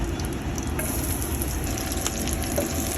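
Black cumin seeds and garlic sizzling steadily in hot oil in a home kitchen, a dense continuous frying crackle with an occasional stir, close and fairly loud with no talking.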